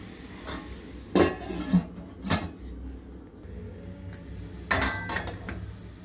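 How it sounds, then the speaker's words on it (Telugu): Metal clatter from a lid being set onto a cooking pan on the stove, with a few distinct clanks spread through an otherwise quiet kitchen moment, no voices. "ఒకసారి మూత పెట్టాలి"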